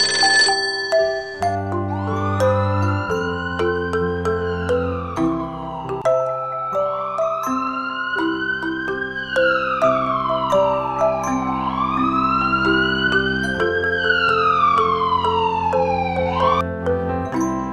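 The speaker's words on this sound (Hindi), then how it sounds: "एम्बुलेंस को कॉल करते हैं।" A toy ambulance siren wails loudly and steadily, its rising and falling electronic tones looping in repeated sweeps for the whole span, with no talk.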